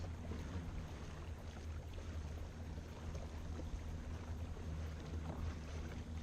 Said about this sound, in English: Four point seven miles an hour going with the current, but just the trolling motors